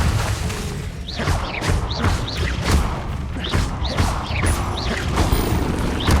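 Repeated Confringo blasting spell explosions in Hogwarts Legacy, a rapid series of loud thumps and crashes with whooshing swoops between them, under occasional shouting.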